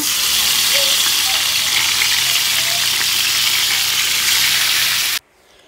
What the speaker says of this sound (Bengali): এখন হলুদ লবণ দিয়ে মেখে নিচ্ছি, এখন ভেজে নেবো। এখানে কড়াইতে তেলও দিয়ে দিচ্ছি।